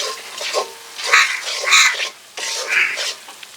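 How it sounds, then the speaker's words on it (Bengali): Spice paste being stirred and sautéed in a pan, close wet scraping and sizzling strokes coming in a few uneven bursts with brief pauses between them, no talk. "এবার সবকিছু খুব সুন্দর করে মিশিয়ে ভালো করে কষিয়ে নেব"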